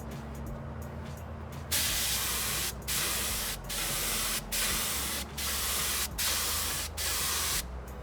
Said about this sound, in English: I'm gonna spray on this vertical surface with the max paint volume